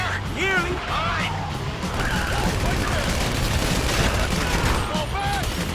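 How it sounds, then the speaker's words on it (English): Gunfire rattles through a shootout in the video game GTA, with dense bursts and crashes over a steady din while voices shout and talk over the action. "You hear that gunfire?"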